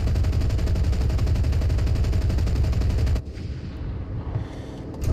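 Battle gunfire in the World War II shooter Enlisted: a loud, continuous rattle of automatic fire for about three seconds, then a sudden drop to quieter distant shooting and rumbling, with no voices.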